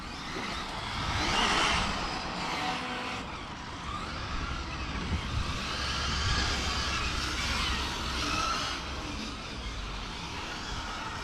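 A Hobao Extreme VTE2 1/7 electric RC car with a Castle Creations 1520 1650KV motor on 6S 8000mAh power whines and rushes past, swelling and fading with speed outdoors, with no talk.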